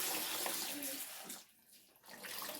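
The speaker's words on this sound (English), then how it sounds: "I'm just draining the water" Hot water is poured off freshly cooked carrots into a sink, a close splashing rush that briefly dips into a pause and then resumes.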